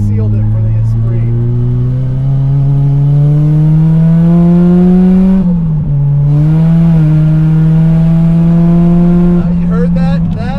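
A 450 HP 1990 Lotus Esprit SE driving hard, its engine droning loud and close as revs climb steadily, then dipping as the clutch slips on the shift into fourth before the note rises again.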